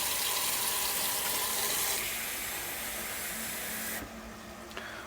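Water runs steadily from a kitchen tap as it is added, a loud broadband rush that changes pitch partway through and then cuts off near the end, with no talking.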